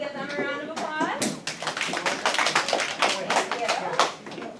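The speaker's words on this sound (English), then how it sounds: "can we give them a round of applause?" Classroom applause during a science lesson, a short burst of scattered hand clapping from students, fairly close and mixed with overlapping children's voices and chatter.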